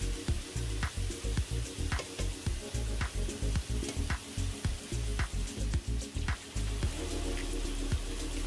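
Unsalted butter sizzles and spits steadily around steak tips in a grill pan, a close, continuous frying crackle with rhythmic scraping pulses.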